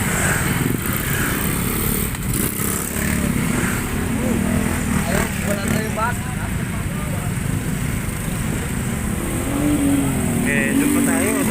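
Motorcycles rev and pass through heavy, gridlocked provincial traffic in Tanza, Cavite, a continuous loud engine drone with rising and falling passes close by, under intermittent talk.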